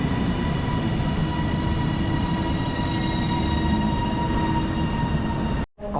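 A TransPennine Class 397 Nova train departs Bolton station with a loud, steady electric hum and whine, rolling continuously before cutting off sharply just before the end.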